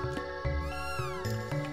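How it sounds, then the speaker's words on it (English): In Chrono Trigger on the SNES, a cat meows in a game scene, a drawn-out gliding call set against steady musical tones and repeated low thumps, with no voices. "Yeah, my cat!"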